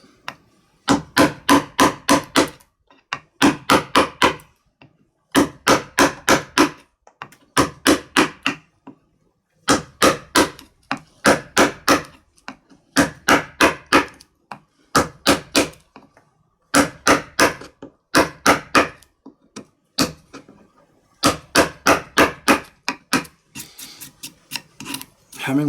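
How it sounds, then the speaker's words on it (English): A hammer striking a chisel to carve a wood block for Japanese printmaking, close and loud, in repeated quick bursts of about eight to ten sharp blows separated by short pauses, alone without talk. "I got about 2 minutes or 3 minutes work with a hammer"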